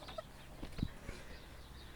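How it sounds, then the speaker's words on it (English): Chickens clucking on a farm, a few short soft calls with one brief louder cluck partway through, fairly faint against low background noise. "These are chickens."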